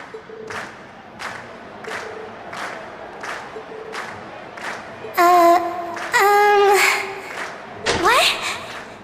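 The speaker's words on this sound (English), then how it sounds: "we've heard your cheers loud and clear" Concert crowd in the video game The Legend of Heroes: Trails of Cold Steel, cheering after Class 7's performance: a run of evenly spaced sharp claps or beats, then loud rising shouts and cheers in several bursts.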